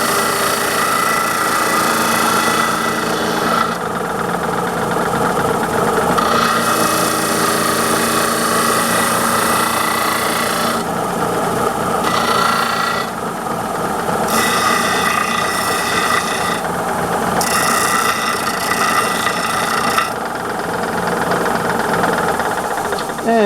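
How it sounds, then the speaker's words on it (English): Steel tube ends being deburred and cleaned with a power tool ahead of welding to a plate, a steady loud grinding rasp running throughout with brief dips in pitch and pressure. "we want to get the ends, want to deburr the ends too"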